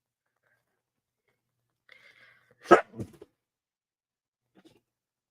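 One abrupt bark up close, followed by a smaller huff, with faint whimpering sounds before and a brief noise later in otherwise quiet surroundings.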